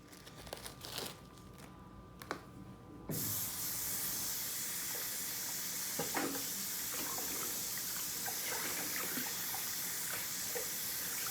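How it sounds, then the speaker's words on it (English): Tap water runs over cremini mushrooms being rinsed at a kitchen sink, a steady close hiss of spray that starts abruptly after a few seconds of faint clatter, with occasional small knocks under the flow. "I'm gonna take my mushrooms, my cremini mushrooms. I'm gonna give them a little rinse first."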